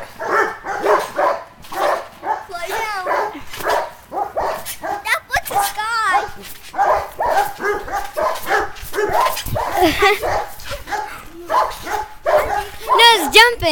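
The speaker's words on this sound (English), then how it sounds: "Dogs are barking." Backyard dogs bark repeatedly in quick, loud bursts with yips and whimpers, close by, while children and adults talk and shout over the barking.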